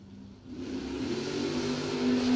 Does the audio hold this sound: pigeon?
no